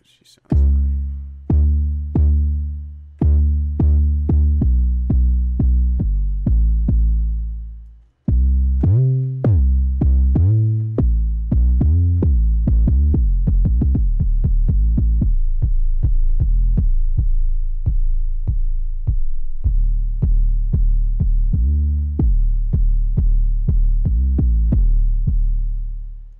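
A punchy 808 bass line from a trap beat programmed in REAPER, booming in a steady rhythmic pattern of repeated deep hits, loud and alone, with a brief break partway through before the beat resumes.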